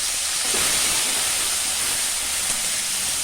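Tomato dropped into a hot pan of softened onions for Sri Lankan-style sodhi, giving a steady, loud broadband sizzle and hiss that holds unbroken throughout, with no talking.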